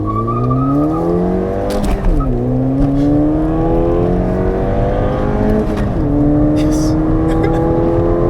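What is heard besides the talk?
modified Ford Fiesta ST accelerating on the road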